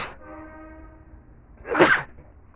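A single sharp, close sneeze bursts out after a brief held intake of breath, loud against an otherwise quiet background.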